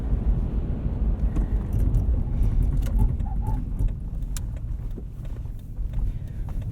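A 2006 Toyota 4Runner on Firestone Destination X/T winter tires set to 32 PSI rolls along back roads over a couple inches of snow, giving a steady low engine and road rumble with faint chirps in the background.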